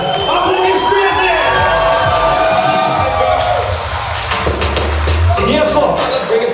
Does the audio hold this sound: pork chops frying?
no